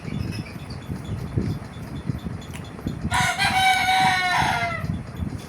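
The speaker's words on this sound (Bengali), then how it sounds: "ওদিকে আমার মোরগ ডাকছে।" A large rooster crows once nearby, a loud drawn-out call rising over soft background noise and faint clucking, with no talking.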